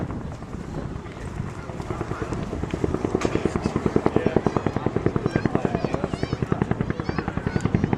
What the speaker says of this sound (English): really hear the fabulous sound of the blade slap